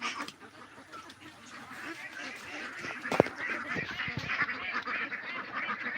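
A flock of about five hundred ducks at a small duck farm calling and quacking in a busy, continuous chorus, fairly close, with a sharp louder squawk in the middle.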